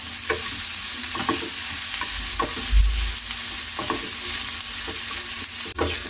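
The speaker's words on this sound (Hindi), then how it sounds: "इतना भूंज लेंगे कि जो हमारी प्याज है वो हल्की गुलाबी हो जाए" Onions fry in a pan while being stirred, giving a loud, constant sizzle broken by a regular series of scraping strokes of the spoon, close and with no voices.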